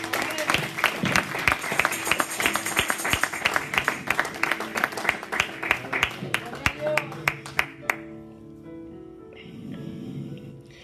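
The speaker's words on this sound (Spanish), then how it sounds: "Denle palmas fuertes al Señor" A church congregation claps loudly in a steady, rhythmic beat over music and singing voices, the claps stopping abruptly near the end while the music carries on.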